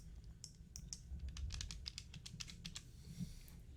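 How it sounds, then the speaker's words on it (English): The mechanical buttons of a wired Razer Raion fight pad are pressed in quick irregular bursts, crisp close clicks and taps following one another rapidly, fairly quiet with no voices. "the mechanical switches on this are an absolute beauty"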